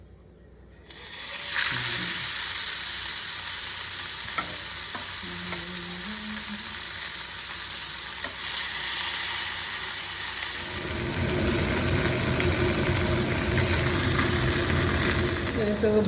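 Bombay duck fish frying in a pan, a steady loud sizzle running throughout with a few stirring clinks and scrapes, growing denser and harsher in the final seconds.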